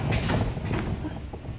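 A residential garage door pulled down by hand, a loud close rumbling slide with mechanical rattling that fades slightly toward the end, with no voices.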